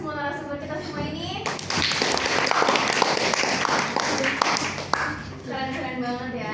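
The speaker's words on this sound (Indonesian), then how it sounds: "kita tepuk tangan dulu ya untuk semua narasumber kita semua ini." An audience applauds the speakers at a campus talk show, with dense, steady clapping that swells for several seconds and then fades as a voice resumes; speech is heard before and after.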